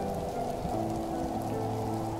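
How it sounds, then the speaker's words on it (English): Heavy rain lashes down without pause, a dense, loud and unbroken roar of drops beating on surfaces close by, steady from start to end. "The rain grows worse. It lashes at us without pause."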